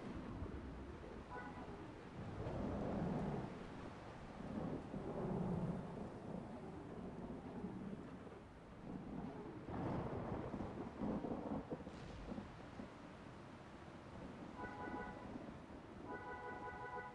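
Rain and thunder in the video game SWGEmu: a constant hiss of rainfall under repeated deep rolling thunder rumbles, low and moderately quiet, with a few faint chime-like game tones.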